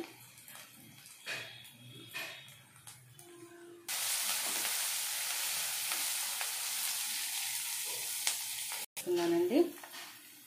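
Asafoetida drops into hot oil for a tempering after curry leaves, setting off a loud, steady sizzle that holds for several seconds, with soft clinks and stirring before and after.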